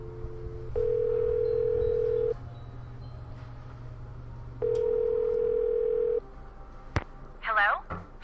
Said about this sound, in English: Let's call Chantal.